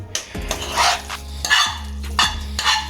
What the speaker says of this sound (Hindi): अब हम इसको अच्छे तरीके से मैश कर लेते हैं